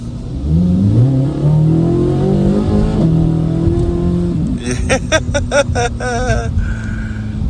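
A 2026 Corvette Z06 3LZ engine revs and accelerates hard up through the gears, a loud, close, rising roar with distinct shift breaks, then sharp crackling pops at the end.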